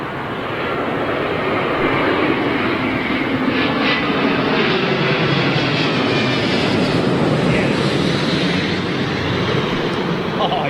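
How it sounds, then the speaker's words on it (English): An Airbus A350 arrives on runway 27L at London Heathrow with a loud, continuous, broad engine roar that holds steady throughout. "Okay, A350, here we go."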